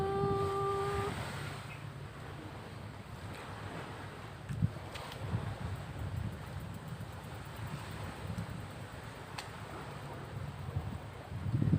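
Wind gusting across open ground at Labrador Park in Singapore on a sunny day, a steady low rumbling buffet on the microphone with no speech, broken by a few faint knocks.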